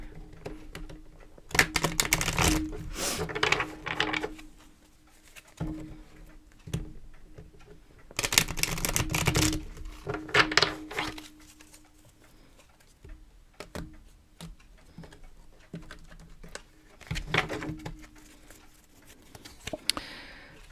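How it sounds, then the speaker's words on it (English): Oracle cards being shuffled and drawn by hand, heard as three separate bursts of quick papery riffling and soft tapping with quiet pauses between them, and no talking. "Let's pull a couple of oracle cards, though, just to tighten this up a little bit."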